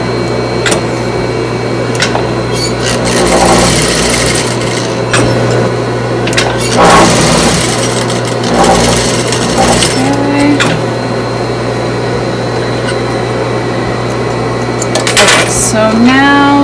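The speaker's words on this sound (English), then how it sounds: "stitch over the whole thing again just to make sure it's really strong" A sewing machine runs in bursts while restitching around the edges of a fabric surgical mask, its rapid mechanical whir loud and close, broken by short pauses and clicks.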